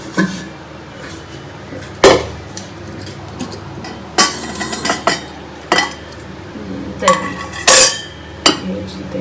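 Metal pots and dishes clatter and clink in a home kitchen during a busy morning routine, several sharp bangs and scrapes at irregular intervals, close, with faint background noise between them.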